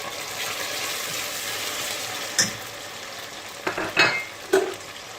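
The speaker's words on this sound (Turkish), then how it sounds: "Bir yemek kaşığı domates salçamızı koyuyoruz." Tomato paste and onions sizzle steadily in a pan, a continuous frying hiss with a few short clinks and stirring knocks near the end; no one speaks.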